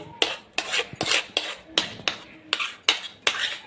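Pea paste is spread onto an oiled steel plate, producing a run of sharp metallic clinks and scrapes in a steady, repeated rhythm, close and fairly loud, with no talking.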